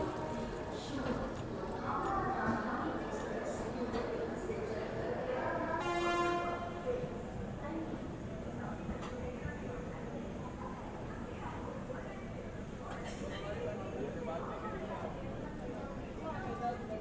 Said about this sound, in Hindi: फाइनली अपनी ट्रेन कानपुर पहुंच रही है